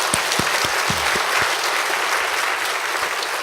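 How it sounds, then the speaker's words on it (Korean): A church congregation at an evening revival service at Yeouido Baptist Church breaks into loud, dense applause that fills the hall, clapping continuously for a few seconds with no talk over it. "우리 주님께 큰 박수로 영광 돌리겠습니다."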